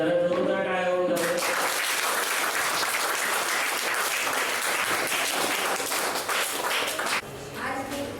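Sustained, loud applause fills a Teacher's Day celebration hall after a welcome for a well-known teacher, with dense clapping running steadily for several seconds before easing off near the end.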